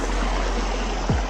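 Steady broadband rush of a waterfall in a forest near Lake Louise or Moraine Lake, Alberta, close and continuous, with a brief low thump near the end.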